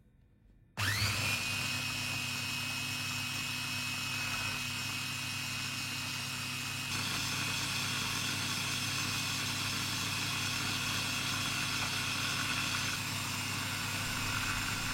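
A kitchen chopper or blender runs continuously, grinding ingredients with coconut milk and a little salt, starting abruptly and then holding a steady, loud whirring drone with a constant motor hum throughout.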